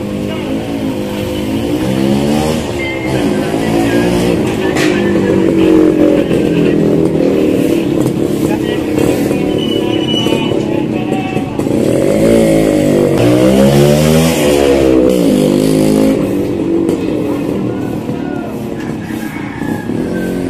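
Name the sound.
illegally parked vehicle engine starting and revving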